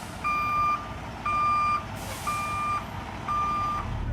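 A truck backs up slowly, its reversing alarm sounding four evenly spaced loud beeps over a low engine rumble.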